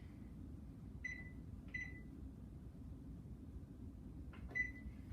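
Three short electronic beeps sound one after another over a low humming hum, as a kitchen oven timer is set.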